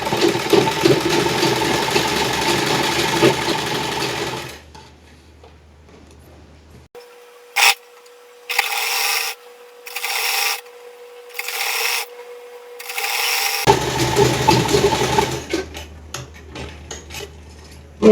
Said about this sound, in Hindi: चलिए मशीन पर सिलाई लगाते हैं।